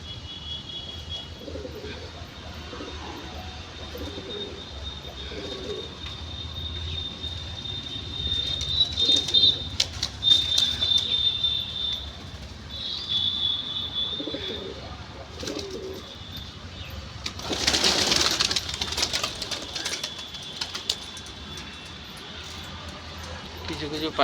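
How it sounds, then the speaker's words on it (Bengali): Pigeons cooing softly nearby, with bursts of wings flapping and some chirps, while a person talks intermittently over the birds. "এই পায়রাগুলোকে খাওয়ানো দাওয়ানো, ওদেরকেও একটু সময় দিতে হয়"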